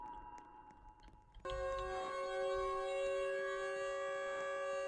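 Siren Head in the Roblox horror game Scary Elevator gives a sudden loud, sustained siren wail with steady, droning tones that hold without a break after a quiet start.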